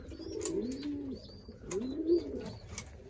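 Pigeons coo in a loft in winter, several soft rolling coos rising and falling in overlapping phrases, close by and clear with faint chirps behind.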